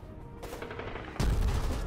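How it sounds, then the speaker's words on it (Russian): An artillery gun fires in the Foxhole war video game, a single heavy blast that bursts in loudly partway through and rumbles on with no voices. "Выстрел."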